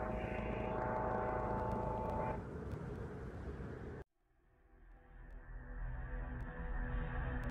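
Helicopter in the VRChat video game, a steady loud engine and rotor drone that cuts out abruptly partway, then swells back up to full strength.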